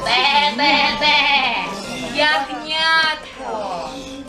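A person imitating a lamb's bleat in a baby theatre performance, a series of wavering, quavering "baa" calls in quick succession, loud and close, repeated in short bursts.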